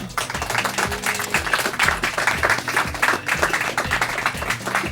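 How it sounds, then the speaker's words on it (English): An audience at a grand final quiz playoff in Melbourne applauds the finalists, a steady wash of clapping lasting several seconds at moderate volume. "Let's have a big round of applause for them."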